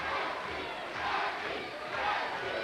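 A wrestling crowd at a 1995 WCW Saturday Night event chants in rhythmic, roaring swells, with a dense, continuous arena din rising and falling roughly every second.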